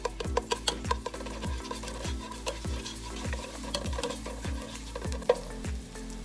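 Garlic frying in a pan for Filipino chicken sotanghon soup, a steady sizzle with regular stirring scrapes that repeat in an even rhythm, close and moderately loud, with no talking.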